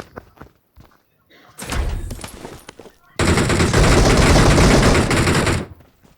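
Automatic gunfire in PUBG Mobile on the Livik map: a few faint clicks and steps, then a short rattling burst, followed by a long, loud, sustained volley of close shots that cuts off abruptly.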